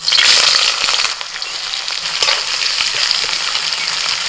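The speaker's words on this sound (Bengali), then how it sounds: "এবার দিচ্ছি পেঁয়াজ কুচি" Chopped onion hits hot mustard oil in a wok with bay leaves and cinnamon, bursting into a loud, close hiss and crackle that settles into a steady sizzle, with no talking.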